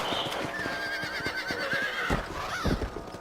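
A horse in Red Dead Redemption whinnies in a long, wavering call over scattered clip-clop hoofbeats and game background, then a second, shorter neigh rises near the end, close and fairly loud.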